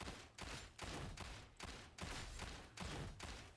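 A las pistol in Warhammer 40K: Darktide fires heavy shots at a steady, moderate pace, about seven or eight evenly spaced blasts with a sustained hiss between them, quiet overall.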